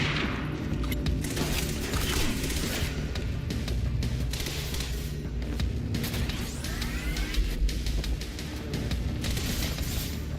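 Rapid gunfire from the video game Quantum Break, sustained dense bursts and booms filling the whole stretch at moderate level, with no clear talk over it.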